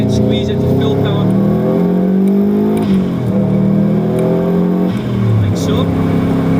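Race car on the Knockhill circuit accelerating out of a corner to full power, a loud continuous engine roar with rising pitch through a gear change, heard close and alone.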